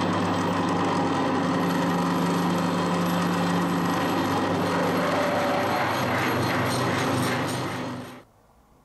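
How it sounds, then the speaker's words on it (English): A reamer cuts through a drilled hole on a metal lathe, giving a steady grinding mechanical rattle with a faint high whine. It runs close and loud for about eight seconds, then stops abruptly into near silence. "I was taking a bit more off with that reamer than I really should have done."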